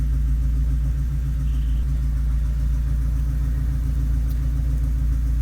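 Turbocharged Subaru EA82T flat-four running on Megasquirt engine management sits at a steady idle, a loud, even low rumble that holds constant with no revving or voices.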